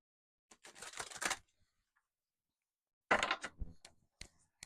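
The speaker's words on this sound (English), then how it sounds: "Let's do a quick shuffle of these and those, and we'll get going." A deck of tarot cards riffled and shuffled by hand close up, two separate bursts of crisp papery flicking with a quiet pause between them and a few light taps at the end.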